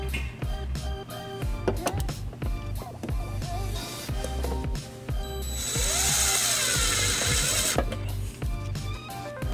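Power tool driving self-tapping screws into the frame rail of a Ford Edge during trailer wiring installation, heard as repeated short ratcheting mechanical bursts with a longer whirring spell, fairly quiet and without talk.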